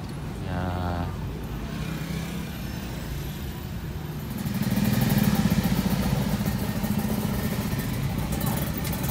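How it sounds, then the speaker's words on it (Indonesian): Motorcycles crawling through a holiday traffic jam near Pangandaran beach, a continuous mix of idling and revving small engines, getting louder midway as bikes pass close by, with faint voices under the engine noise. "Macet ya sama motor."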